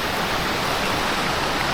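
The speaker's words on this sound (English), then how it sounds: "this is where the Goose River empties out." The Goose River pours out into Belfast Harbor in mid-coast Maine, a dense, continuous roar of rushing water, loud and close, with no voices over it.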